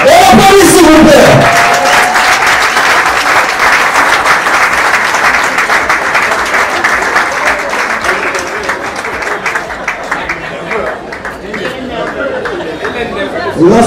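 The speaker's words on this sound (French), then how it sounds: "Et applaudissez s'il vous plaît." At a celebration for a general's promotion, an audience applauds loudly and continuously, with chatter and calls mixed into the clapping before it slowly thins out.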